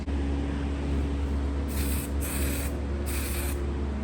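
A black base coat is spray painted onto Mazda Miata NB taillights in two clear hissing bursts from the spray can. A steady background hum runs underneath throughout.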